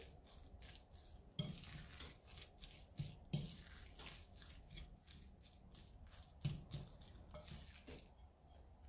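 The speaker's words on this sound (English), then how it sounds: "So let's mix all of them nicely." Meatball ingredients get mixed in a bowl: soft wet squelching and stirring with scattered clinks of utensil against the dish, faint and close, with a few sharper knocks.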